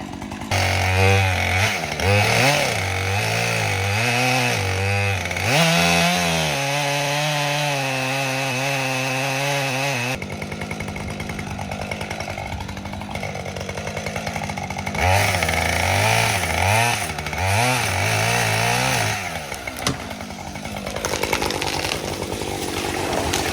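A Husqvarna 545 Mark II pro chainsaw revs and bogs repeatedly as it cuts through a tree, loud and close, with a rougher grinding stretch midway.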